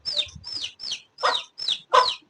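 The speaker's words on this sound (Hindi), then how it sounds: "ये कॉकटेल हमारे, और ये दो चूजे कॉकटेल के साथ।" Two chicks and a cockatiel call nearby: six evenly spaced, high, bright chirps in a steady rhythm, close and clear with no voices.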